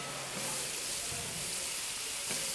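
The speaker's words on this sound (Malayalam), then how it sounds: "പിന്നെ അതൊന്ന് വാട്ടിയതിന് ശേഷം നമ്മൾ സവാള ഇട്ട്" Sliced onions fry in Dalda and ghee with ginger, garlic, fennel seeds and green chillies in a Kerala-style dish, producing a steady, soft sizzling hiss up close.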